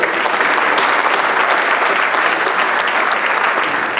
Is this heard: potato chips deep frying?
no